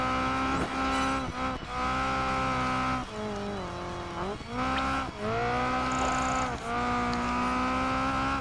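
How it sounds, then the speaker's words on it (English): A car power-sliding in the racing game Project Gotham Racing 4 screams with a loud, sustained engine note, bending in pitch as the revs shift, broken by brief tire squeals through the corners. "That was a good power slide, I mean."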